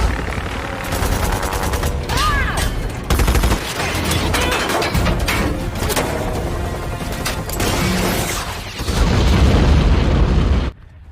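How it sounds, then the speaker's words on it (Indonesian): Gunfire and explosions from a film scene at a snowy prison: rapid bursts of shots, heavy booms and rumbling blasts, loud and dense throughout, ending in a sustained roar before cutting off. "Efek kejut dari tembakan tersebut membuat salju di sekitar longsor"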